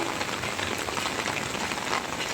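Heavy rain falls steadily in Hemayetpur during the rainy season, a dense, even hiss of drops on surfaces that continues unbroken with no voices.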